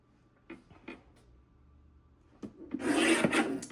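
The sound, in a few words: paper trimmer cutting cardstock print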